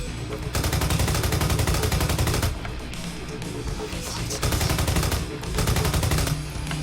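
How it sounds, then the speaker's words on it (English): Loud bursts of rapid automatic gunfire in the video game Fortuito Lost History, several long volleys separated by brief pauses. "if the gunshots are really loud"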